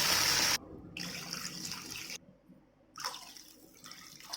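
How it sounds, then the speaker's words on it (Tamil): Water pours into a cooking pot in a steady, close splashing stream that cuts off abruptly and resumes several times, with no talking. "இந்த ஸ்டேஜில் தண்ணி சேர்த்துக்கலாம்."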